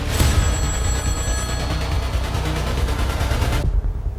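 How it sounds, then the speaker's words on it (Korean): A telephone call comes in to the Daegu police headquarters, and the bell rings in a fast, continuous rattling trill, loud and close, for about three and a half seconds before cutting off abruptly. "대구 경찰청으로 한 통의 전화가 걸려."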